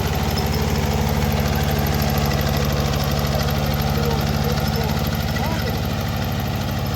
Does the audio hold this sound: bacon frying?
no